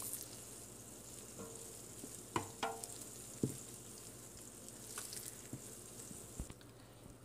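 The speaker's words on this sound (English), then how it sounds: "just mix it occasionally, because we want to make sure that it doesn't burn. So we just want it to melt with the butter." Butter melting in a pan gives a soft, low sizzle, with occasional scrapes and clinks of a utensil stirring it, quiet and close.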